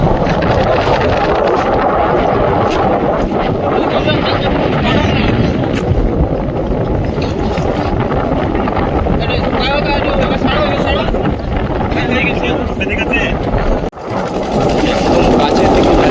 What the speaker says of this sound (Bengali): নদীতে প্রচুর ঢেউ হচ্ছে দেখছি, প্রচণ্ড হাওয়া হচ্ছে আর নদীতে প্রচুর ঢেউ।